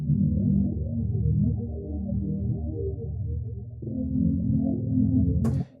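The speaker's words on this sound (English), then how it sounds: "you can hear that that phaser is doing a lot of heavy lifting there" A slow modern R&B beat run through Logic's stock phaser set heavy, giving a low, swirling, sweeping bass-heavy tone that holds steady and shifts once midway before cutting off with a brief click.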